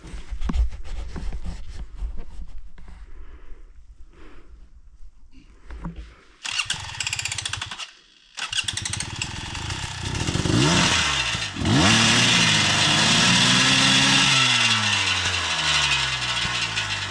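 A motorcycle engine cranks and fires up after some quiet shuffling, then revs loudly and repeatedly, rising and falling in pitch close by.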